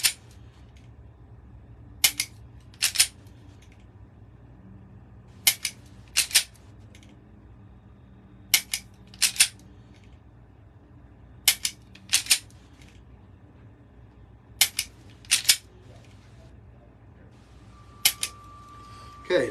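Dry fire with a Mantis X10 laser training system: sharp, isolated mechanical clicks, mostly in quick pairs about every three seconds, loud and close against near silence.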